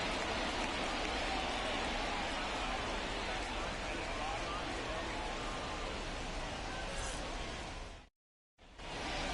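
Steady rain falls during a baseball game in MLB The Show 24, a continuous broadband hiss that drops out briefly near the end, with broadcast commentary over it.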